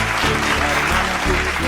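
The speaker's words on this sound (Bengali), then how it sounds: "একটা জোরে হাততালি তার জন্য।" A crowd gives loud, dense applause for an award recipient at a women's recognition event in Purulia. The clapping stays steady and close throughout.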